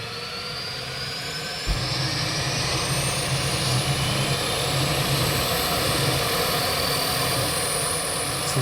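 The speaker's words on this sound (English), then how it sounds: "the plane's firing up to say goodbye" Twin Otter floatplane engines start up and run on a lake in the Peel River watershed, a steady loud propeller-engine roar that surges stronger partway through and holds close by, with no talking.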